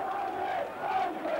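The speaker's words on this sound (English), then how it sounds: "Listen to the applause from the Clarets faithful." Burnley supporters in a football stadium applaud and cheer after a goal, a distant, steady crowd roar with no talk over it.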